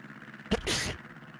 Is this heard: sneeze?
yes